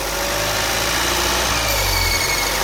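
A 2019 Volvo XC40 with the 2.0L four-cylinder B4204T18 engine and a faulty oil trap, heard at idle. A thin, high-pitched squeal or whine rides over a steady, close engine hum.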